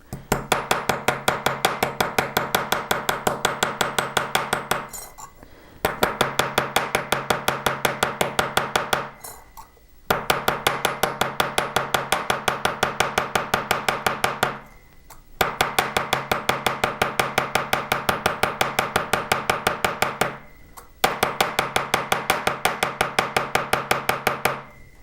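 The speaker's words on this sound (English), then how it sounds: "This is the Precision Smith large embossing hammer, and I'm just going to tap all the way around the outer." A Precision Smith large embossing hammer taps around the outer edge of a small metal lily, giving fast, even rows of sharp metallic taps in bursts of several seconds, each burst separated by a short pause.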